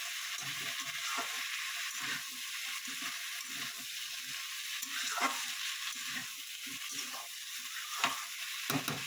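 Shrimp curry sautéing in a pan with greens, a steady close sizzle broken by repeated scraping stirs in an uneven rhythm, no voices.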